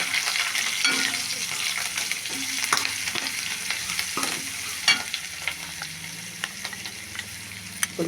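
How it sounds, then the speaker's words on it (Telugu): Two dried red chillies sizzle in hot tempering oil for a tomato rasam, a steady close crackle and hiss broken by occasional stirring clicks, with no talk. "2 ఎండుమిరపకాయలు వేసి అది కొంచెం తాలింపులో వేగాలండి"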